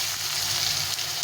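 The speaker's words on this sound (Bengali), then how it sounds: "আলুটা একটু দিয়ে দেবো," Potatoes fry in a little hot oil with dried red chilli and cumin, making a steady, close, dense sizzle with no talking.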